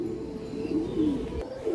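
A racing pigeon coos softly nearby in a loft, a low throaty call rising and falling a couple of times in a short stretch, with one brief click near the end.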